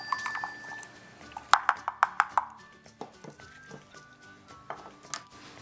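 Egg yolk and nuts are whisked in a bowl for a paleo breakfast: a quick run of bright, close clinks of whisk against bowl, then softer scattered taps and stirring.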